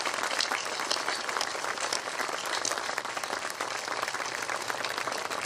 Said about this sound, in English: Give them your round of applause